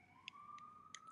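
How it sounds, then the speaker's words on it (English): A faint, distant siren from a passing emergency vehicle wails with a steady rising tone, accompanied by a few brief high-pitched beeps. "The sirens."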